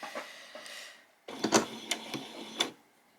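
Sewing machine stitching slowly around the edge of fabric for a peasant top, short mechanical whirring bursts with brief pauses between them, close and fairly quiet.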